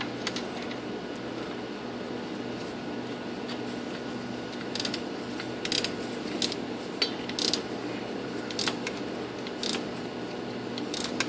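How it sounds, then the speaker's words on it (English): A swivel ratchet wrench works on transfer case bolts of a Silverado K1500 truck, giving repeated light clicking bursts over a constant background hum, without speech. "So you have to use a ratchet wrench."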